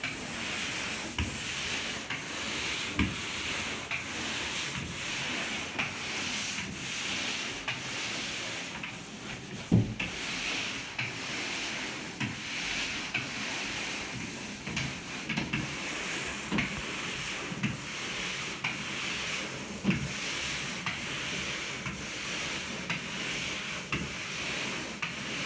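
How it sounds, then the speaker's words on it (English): Repeated scraping strokes of sandpaper rubbing across a bedroom wall before repainting, a rhythmic hissing rasp with occasional soft knocks, close and continuous. "Then you've got a good sand. This will make the walls a lot smoother."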